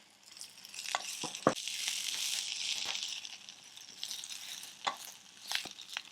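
Drumstick leaves (murungai keerai) stir-fried with softened onions and salt in a pan, giving a steady crackling sizzle broken by a few sharp spatula scrapes and taps, close by with no voices.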